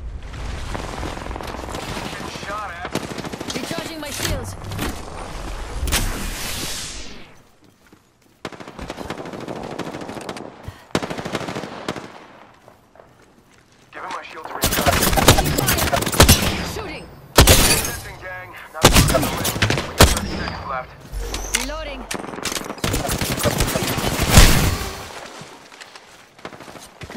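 Bursts of rapid automatic gunfire and single shots crack out in an Apex Legends match, loud and close, broken by short lulls and stretches of game sound, with dense volleys clustered toward the end.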